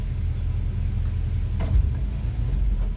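A vehicle engine with its idle turned down runs at a low, steady rumble, close and continuous for the whole stretch with no talk over it.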